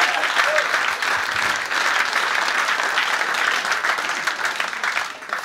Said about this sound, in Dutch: Ja, bedankt voor het applaus.